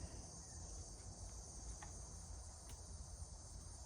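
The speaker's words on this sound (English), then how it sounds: "the cicadas are rubbing their wings, saying it's going to be a hot one" Cicadas buzzing on a hot, hazy day under clear blue sky with a breeze, a continuous high, steady drone with a few faint ticks, quiet and distant, no voices.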